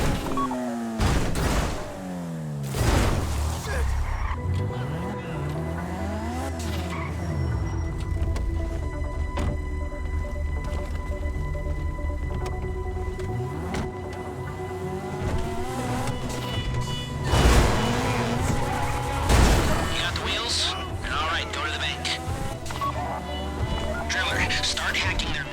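Car engine revving and driving in the heist game GTA Online during the Fleeca Job, with tire squeals, a couple of loud bangs and constant game noise running through the whole stretch.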